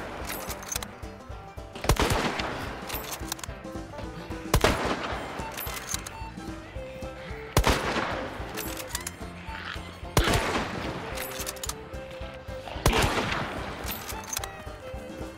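Drum-fed rifle fired in Hunt Showdown, loud single gunshots spaced a few seconds apart, each followed by a rattling reverberant tail, with little talk.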